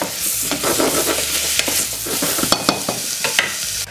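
Steady sizzling and crackling of mushrooms frying in butter in a pan, with occasional stirring clatter, continuous and fairly loud with no talking.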